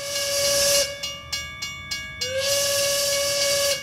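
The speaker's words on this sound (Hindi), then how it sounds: "इलाहाबाद से पहली रेलगाड़ी छुक छुक करती कानपुर पहुंची" A steam train blows a loud, sustained whistle with hissing steam. The whistle breaks for a few rhythmic chugs, then sounds again, close and powerful.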